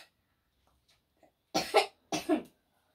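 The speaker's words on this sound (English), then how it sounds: "Thanks for coughing into your elbow" Two muffled coughs, close by, each a quick double burst about half a second apart, in an otherwise quiet room.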